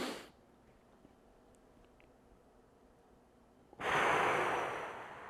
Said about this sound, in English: Big breath in. And one more time, big breath in.